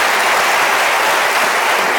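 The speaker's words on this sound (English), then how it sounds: "And give a round of applause for Tim." Audience applause at a forum interview, a dense, loud burst of clapping from a crowd that fills the whole short moment.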